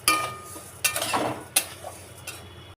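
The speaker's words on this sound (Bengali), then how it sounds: "মুগ ডাল আগে শুকনো খোলায় ভেজে নিয়েছি" Moong dal dry-roasting in a hot pan without oil, a few distinct scraping stirs and light clinks of a utensil against the metal, close but quiet with gaps of near silence between strokes.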